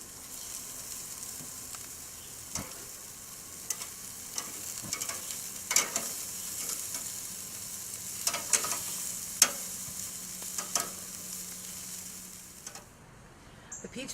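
Chicken wings sizzle and fry in a pan as they are flipped, with a steady low sizzle under several sharp clinks and scrapes of the utensil against the pan.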